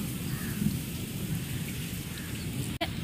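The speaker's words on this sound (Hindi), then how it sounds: "अभी टिप टिप बारिश हो ही रहा है।" Light rain keeps falling after a strong storm on a rooftop in Bihar, a steady soft patter with low rumbling texture throughout, continuous and fairly quiet, with one brief dropout near the end.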